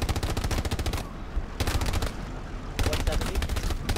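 Loud, close machine-gun fire in a World War II shooter, rapid bursts separated by short gaps with a steady rumble beneath, broken by brief talk.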